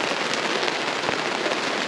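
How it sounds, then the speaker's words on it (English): Heavy raindrops pattering steadily on a campsite, a dense continuous hiss of rain with scattered louder individual drops, fairly close and with no voices. "Now they are some big raindrops."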